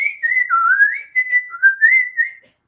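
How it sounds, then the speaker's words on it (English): A person whistling a simple tune alone, a clear close melody of sliding and steady notes in short phrases with brief pauses, loud and free of talk. "I just do the normal whistle"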